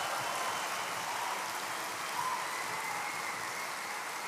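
Steady, dense applause from a conference audience at a Catholic keynote, a continuous wash of clapping holding at even loudness throughout with no voices over it.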